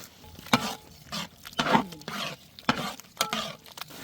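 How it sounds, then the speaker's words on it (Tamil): Tomatoes sautéing with rock salt in a pan for a Madurai-style chicken curry, a soft sizzle under repeated scraping stirs of a spoon, close and fairly quiet with no talking. "அதுக்கு கொஞ்சமாக உப்பு சேர்த்து வதக்க போகிறோம்."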